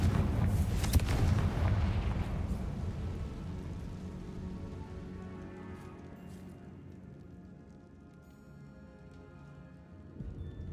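A Confringo blasting spell goes off in Hogwarts Legacy in the Feldcroft catacombs: a loud, heavy explosive burst with a rumbling, crackling tail that slowly fades, then a fresh swell of noise near the end.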